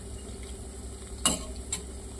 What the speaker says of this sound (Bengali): এক পিঠ হয়ে গেছে, তো আর এক পিঠ ভাজা হোক